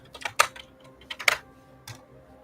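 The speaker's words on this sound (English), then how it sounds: "incoming keyboard sounds" Computer keyboard typing, several quick clusters of close, crisp key clicks separated by short pauses, with no talking.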